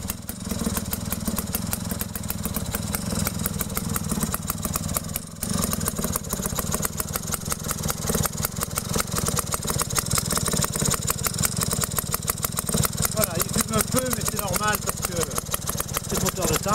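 Staub PPMS tiller engine running steadily at idle, a continuous mid-low mechanical drone throughout, with someone speaking over it.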